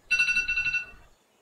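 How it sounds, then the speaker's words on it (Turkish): A short electronic alarm tone rings in a quick warbling burst of about a second, close and clear, then stops. "Alarm çalıyor."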